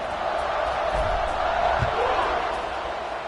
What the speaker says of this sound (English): And this crowd is buzzing after that last score.